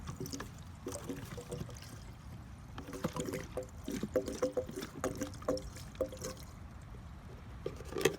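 Fuel additive glugs and trickles as it is poured into a 2007 Audi Q7 gas tank, with soft irregular sloshing and a few faint clunks close by.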